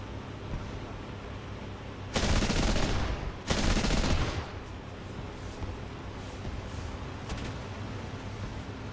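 Aircraft gunners fire machine guns in an air combat simulation game, two loud close bursts of rapid gunfire over a steady engine drone, followed by a brief faint burst later.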